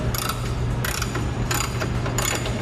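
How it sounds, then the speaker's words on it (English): A 1/2-inch ratchet tightens the bolts of a front strut bar on a 10th-generation Honda Civic, giving four quick bursts of close, crisp clicking with short pauses between them. "My 1/2-inch ratchet."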